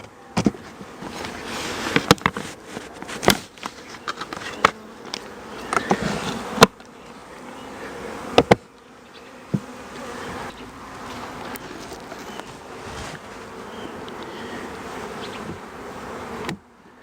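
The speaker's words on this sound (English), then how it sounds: "this is the least number of bees and wasps I've had in it" Bees and wasps hum around a queen rearing hive box in midwinter, a steady close buzz punctuated by frequent sharp knocks and taps that cluster early and thin out later.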